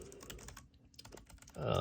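Keys clatter in quick irregular bursts on a Cherry-designed mechanical-feeling keyboard compared against a Logitech MX Mech Mini, close and crisp, with a louder rushing noise at the very end.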